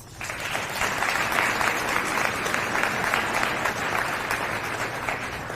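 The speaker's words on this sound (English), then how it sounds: "Let's give them an applause." A crowd at a fire station grand opening bursts into sustained applause, many hands clapping densely and evenly for several seconds without letting up.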